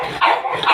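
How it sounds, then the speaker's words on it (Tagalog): Dogs at home give a short burst of barking, one or two quick, close barks with a yelping edge, loud in a brief moment. "Dito na ako sa bahay ng aming mga aso."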